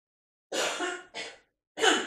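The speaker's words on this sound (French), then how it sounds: "j'aurais toussé dans toutes les vidéos" A woman coughs three times close up, in two quick breathy bursts and then one sharper cough after a short pause, with no talk in between.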